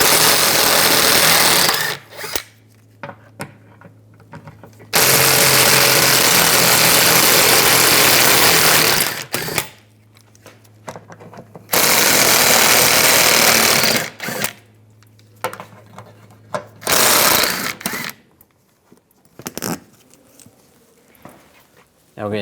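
A ratchet and 10mm socket loosen the underbody shield bolts on a 2015-2020 GMC Yukon XL. The loud bursts of rapid mechanical whirring alternate with quieter gaps, and a steady low hum runs underneath.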